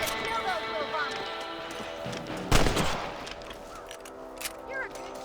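In the Red Dead Redemption video game, a gunshot aimed at rabbits cracks once, sharp and fairly close, over an outdoor ambience with voices talking around it.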